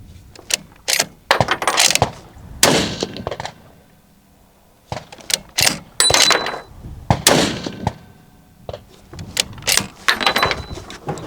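Sharp rifle shots at an outdoor range, a .308 firing in a spaced series of loud, echoing cracks with quieter gaps and handling noises between them.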